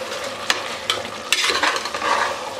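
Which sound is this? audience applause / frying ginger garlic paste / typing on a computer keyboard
frying ginger garlic paste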